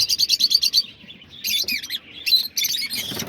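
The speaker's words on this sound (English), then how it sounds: "these are the peach face lovebirds." Peach-faced lovebirds in an aviary chirping in rapid, rhythmic bursts of high, sharp tweets, a quick repeated series at first, then scattered overlapping calls close to the microphone, with no talk.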